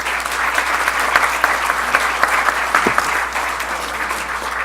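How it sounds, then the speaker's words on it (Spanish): An audience at a legal panel event applauds to send off its officials and panelists, a dense, steady stretch of clapping at close range that carries evenly for several seconds with no talk over it. "Y con este aplauso despedimos entonces a nuestras autoridades y panelistas."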